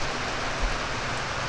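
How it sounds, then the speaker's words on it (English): Steady rain falling on a homestead porch after a rainstorm rolled in, a dense even hiss with no break. "Sun was shining, but I think a rainstorm rolled in."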